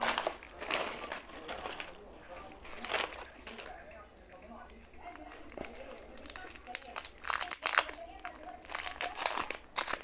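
Plastic bags being pulled from a cardboard carton and torn open, with close, continuous crinkling, crumpling and tearing of plastic while people talk over it.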